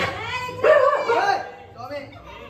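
A tied-up dog gives one loud, close bark followed by a few softer yelps and whimpers, heard alone over a quiet background.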